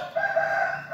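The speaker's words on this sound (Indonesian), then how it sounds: "ayam berkokok." A rooster crows in a village in Indonesia, a sustained tonal call heard at moderate distance over light background noise, with no voices.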